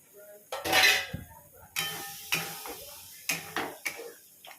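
Chicken goes into a pan with turmeric, cumin and Kashmiri chilli powder and is stirred, producing a series of close metallic clanks and scrapes of utensil on pan at an uneven pace.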